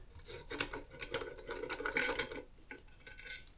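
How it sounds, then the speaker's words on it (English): Torx screws are backed out of the side of a Motorola XPR8400 repeater, making a steady, close, gritty rasping of metal turning that breaks into shorter scrapes toward the end. "Those will just screw out like that."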